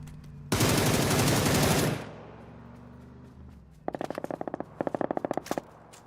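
Automatic gunfire from an MG3 machine gun in a battle royale shooter played on console: a long, loud sustained burst up front, then after a quieter lull two shorter rapid bursts of sharp, evenly spaced shots.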